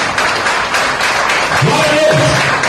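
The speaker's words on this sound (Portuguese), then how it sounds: "Aplaudir bem forte." Church congregation applauding loudly during a worship service, a dense, steady wash of clapping mixed with voices and cheers throughout.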